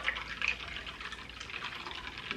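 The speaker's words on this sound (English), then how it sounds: "Add just a little bit more water to top it off." Water pours into a pitcher to top it off while making a drink with sugar, a soft, steady splashing trickle that stays faint and close throughout.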